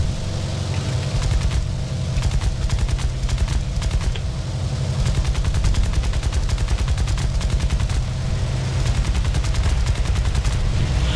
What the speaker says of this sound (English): No, they're machine guns.